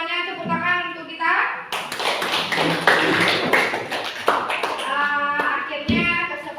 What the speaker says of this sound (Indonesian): Semuanya tepuk tangan untuk kita.